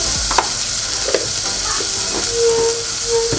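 Onions and garlic sautéing in a pan for broccoli soup, a steady close sizzle and hiss with occasional stirring scrapes and light clinks, no talking.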